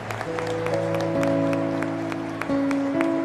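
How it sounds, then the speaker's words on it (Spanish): Congregation applauding at a Sunday Mass with children present, scattered sharp claps over steady sustained organ or keyboard chords that shift pitch a few times, moderately loud and close. "Fuerte aplauso para el Señor"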